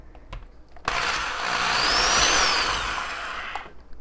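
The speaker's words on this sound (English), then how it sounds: "I'm actually drilling a hole right in the top of the egg" A small power drill bores a hole into the top of an egg shell, a loud steady whir starting abruptly and running for about three seconds before cutting off.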